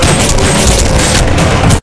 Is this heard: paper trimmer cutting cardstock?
no